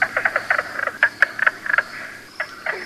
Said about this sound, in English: Right behind him, we might run into a mink frog